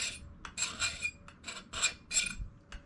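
Knife spine scraped repeatedly along a ferro rod to raise shavings: about seven short, harsh rasping strokes in an uneven rhythm, close and fairly quiet, with no voices.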